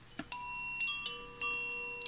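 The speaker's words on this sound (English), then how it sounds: "So that's the fire bell." A fire bell rings faintly in the distance, giving a thin, sustained metallic tone that comes and goes in short bursts, with no voices over it.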